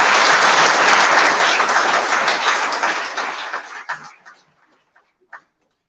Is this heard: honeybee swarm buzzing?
no